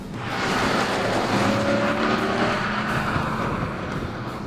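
A Dodge Charger SRT engine drones steadily while the car corners hard, a loud sustained roar with a faint thin tire whine layered over it, rising in and holding through the stretch.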